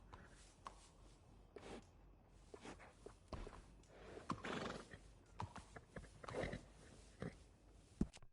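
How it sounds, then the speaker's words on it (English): Horse sounds in the western video game Red Dead Redemption 2: a horse whinnies and snorts between clip-clopping hooves, a string of sharp, fairly close bursts over a quiet background. "That horse doing all right?"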